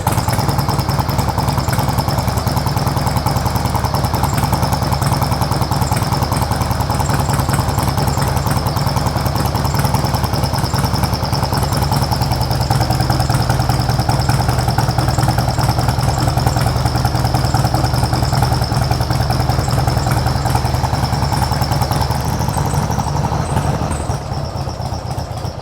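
A Harley-Davidson Sportster 1200cc motorcycle engine idles steadily while warming up, a loud, continuous rumbling drone with a fine mechanical chatter that holds even for most of the stretch before easing slightly near the end.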